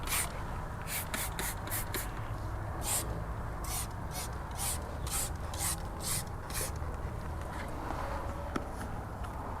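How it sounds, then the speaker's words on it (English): A rapid series of short hissing spray bursts of tyre cleaner onto a tyre, about ten in quick succession, followed by a couple more, over a steady background hum. "Let's go ahead and just spray them again."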